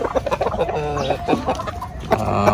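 Gamefowl breeder chickens on a farm cluck and squawk in a dense, overlapping chorus at close range as they are fed, with no talk.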